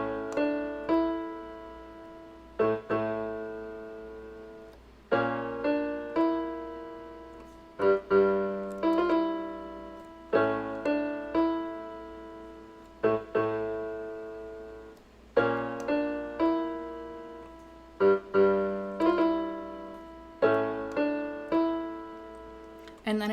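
Solo piano playing a song: a repeating pattern of struck chords over bass octaves, each attack ringing out and decaying before the next, close and steady with no voice.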